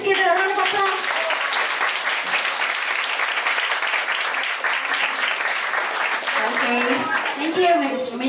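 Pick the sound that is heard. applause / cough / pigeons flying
applause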